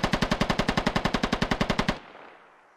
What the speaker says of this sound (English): Not quite sure what Grunt was shooting at there